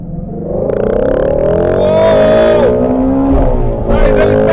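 A Ford Shelby Mustang GT350 V8 revs hard under acceleration on an open road, its engine note climbing in rising sweeps, with a shift partway through, loud and close from inside the car, with a voice speaking over it.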